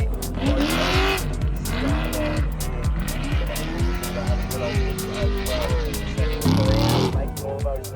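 Off-road race vehicle at the Finke Desert Race entering the stadium section, its engine revving hard through rapid gear changes with tire noise, loud and close, under commentary.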